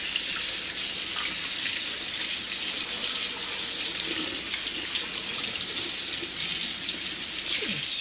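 Tap water runs steadily over a printed circuit board to rinse off etchant, a continuous close splashing hiss with no pauses across the whole stretch.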